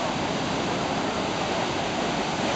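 Water roars through the failed Gold Ray Dam on the Rogue River in Oregon as the lake behind it drains, a loud, continuous broadband rush with no breaks and no voices.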